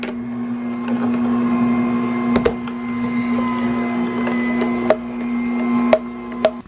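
A Jocuu slow masticating juicer crushes apple pieces with a steady, close motor hum, broken by a few sharp cracks and knocks as the fruit is squeezed.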